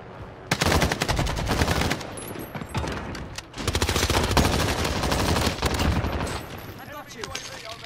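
A SCAR rifle fires in a video game, with long rapid automatic bursts in two main stretches, loud and close, while players talk over the shooting.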